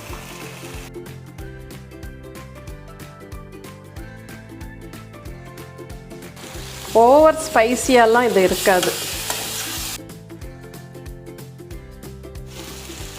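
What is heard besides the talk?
chicken frying with tomatoes in a pan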